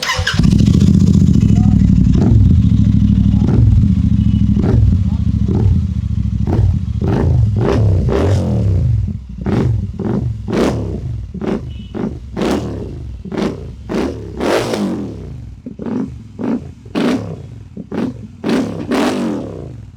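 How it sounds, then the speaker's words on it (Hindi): A Royal Enfield Shotgun 650 with a Tornado exhaust and its dB killer removed idles with a deep, loud throb, then gives a series of sharp, rising revs with blipping throttle bursts close to the microphone. "तो एक बार चेक करते हैं विदाउट डीबी किलर इसकी साउंड कैसी रहती है।"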